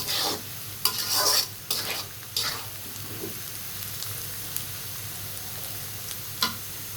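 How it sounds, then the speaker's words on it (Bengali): Onions frying in hot oil in a pan and being stirred, with loud scraping strokes in the opening seconds, then a steady close sizzle with occasional utensil taps and no talking. "অনেক সুন্দর করে ভাজা হয়েছে এবং হচ্ছে আরও হবে"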